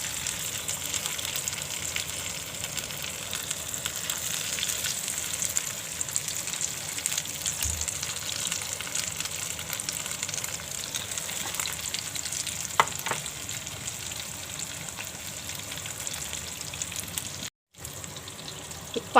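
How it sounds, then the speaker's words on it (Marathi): Crispy poha cutlets shallow fry in oil in a pan, giving a continuous close sizzle and crackle that holds steady throughout, with a few faint clinks and a brief cut near the end. "सॅलो फ्राय करून घेते आहे मी"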